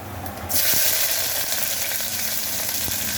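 Onions drop into hot oil with cinnamon, cardamom and cloves, and a loud hiss bursts up and then holds as a steady close frying sizzle.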